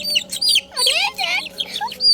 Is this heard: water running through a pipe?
no